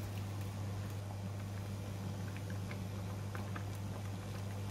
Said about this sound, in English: Boil it at medium-high heat and set the time for 15 minutes.